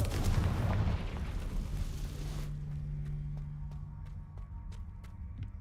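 Confringo fire spell blasting in the Hogwarts Legacy video game: a sustained roaring explosive burst for over two seconds, then a steady low hum with a series of sharp, evenly spaced crackling pops.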